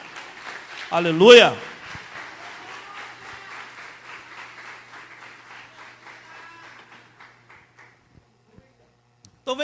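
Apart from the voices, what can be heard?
congregation applauding in church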